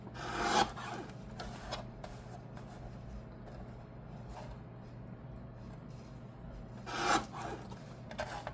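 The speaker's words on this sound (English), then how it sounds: "Let's grab the trimmer and see if I can cut this up into something that will look like something." A paper trimmer slices paper for a junk journal: two short, crisp cutting swipes, one at the start and one near the end, with quiet handling noise between them.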